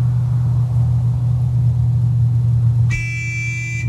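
A car horn in the Borderlands 3 video game sounds near the end, a steady tonal honk cutting in over a loud low engine rumble.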